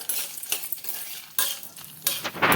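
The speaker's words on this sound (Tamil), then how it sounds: "ஒரு கை அளவுக்கு உளுத்தம்பருப்பு இஞ்சி எல்லாத்தையுமே நான் வந்து சேர்த்துடுறேன் சேர்த்துட்டு இதை வந்து நம்ம நல்லா வறுத்துக்கலாம்" Urad dal and ginger roasting in a pan with a utensil stirring and scraping, giving repeated close scrapes and rattles over a light sizzle, with no voice.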